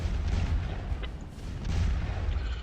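Artillery fires during a video game battle with French cavalry approaching, heard as a steady low rumble of distant cannon booms that swell and fade, with no speech.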